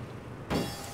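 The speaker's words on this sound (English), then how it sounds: "I'm not even driving, it's still making driving sounds." In the game APB: Reloaded, a car's engine and road noise hum quietly, then swell suddenly into a louder, brighter driving rumble partway through.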